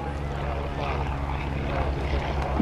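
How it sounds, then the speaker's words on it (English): A WACO Taperwing biplane, built in Troy, Ohio, drones on its takeoff roll at an airshow, its propeller engine a steady, moderately loud buzz with a faint voice underneath. "On the takeoff roll is the WACO Taperwing, built in Troy, Ohio"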